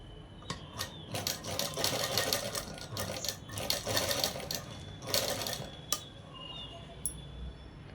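A sewing machine runs small stitches on a dress in several short, rapid bursts separated by pauses, with light metallic clinks between them and no speech.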